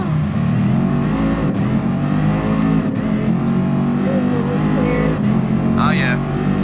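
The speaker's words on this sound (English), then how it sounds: "That's a really loud motor." A Mercedes race car engine in Gran Turismo Sport drones loud and steady, a continuous throaty motor note that holds throughout while a person talks over it.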